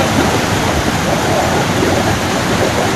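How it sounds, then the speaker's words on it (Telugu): A rain-swollen stream in Nizamabad rushes and churns after heavy rains, a loud, steady roar of floodwater that runs unbroken from start to finish. "భారీ వర్షాలకు వాగులు చెరువులు పొంగి పొర్లుతున్నాయి"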